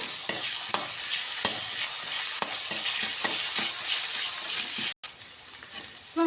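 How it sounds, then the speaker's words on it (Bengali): Potatoes fry in a pan with ginger, garlic and green chili paste, giving a loud, steady sizzle broken by regular scraping stirs and a brief pause near the end, with no talk. "এবার আলুটা ভেজে নিয়ে এর মধ্যে আদা রসুন কাঁচা লঙ্কার যে পেস্টটা করে রেখেছিলাম ওটা দিয়ে দেবো"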